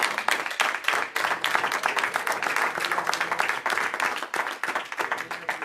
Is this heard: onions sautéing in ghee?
no